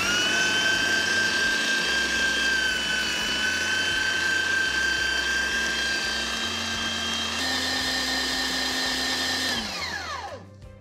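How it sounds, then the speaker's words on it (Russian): An electric meat grinder minces lamb with a loud, steady motor whine and a whirring hum that runs for about ten seconds, then winds down to silence. "Мясорубка мощная, прям все перемолола."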